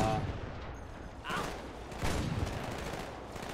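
Gunfire in the Halo 2 video game on Legendary difficulty, with a rapid burst of shots. Sharper rifle cracks land around the middle, partly masked by a dense game soundscape.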